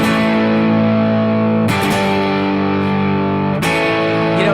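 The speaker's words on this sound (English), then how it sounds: "you pick up a guitar, electric guitar, you've got some distortion," Electric guitar chords played through heavy distortion on a Fender guitar ring out loud and sustained, with three strummed chords each left to ring for roughly two seconds.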